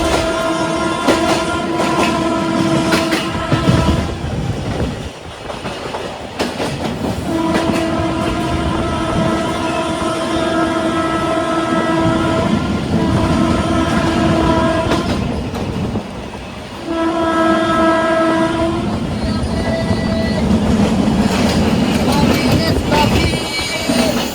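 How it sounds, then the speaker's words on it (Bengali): The Kaziranga Express rolls through Dum Dum Junction at roughly 30 to 40 km/h, sounding loud, sustained multi-tone horn blasts in several long bursts over the rumble and clatter of the wheels, close by. "30 থেকে 40 কিলোমিটার গতিতে কাজিরাঙ্গা এক্সপ্রেস দমদম ক্রস করে যাচ্ছে।"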